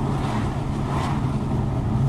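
An Audi S5 V8 engine drones steadily at low revs, a deep, even rumble heard from inside the car.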